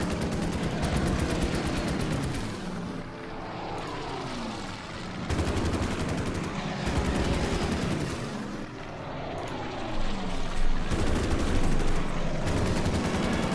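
Fighter aircraft attacking an enemy fighter in the Order of Battle war game, set around Kharkov 1943, heard as a dense, continuous roar of gunfire and explosions that stays loud throughout.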